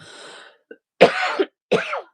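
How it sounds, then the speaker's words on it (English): A faint breath, then two harsh, close coughs in a row. "I need to cough again."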